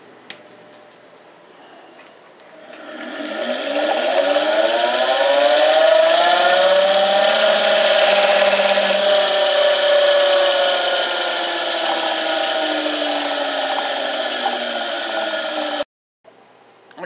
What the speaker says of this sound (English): I will now start the motor.